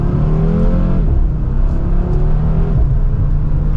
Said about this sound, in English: really hearing just that unique engine note is definitely a fun experience